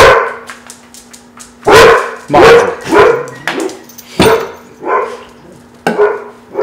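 Two or more dogs indoors bark loudly in repeated bursts after a hammer tap on a table, sharp woofs with a few whimpers and yips between them, a brief word of speech and a faint steady hum.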